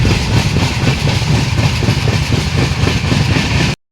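A train runs steadily through a small station at Kanpur in West Bengal, close and loud, with a continuous rumble and rhythmic wheel clatter on the rails that holds throughout and then cuts off abruptly.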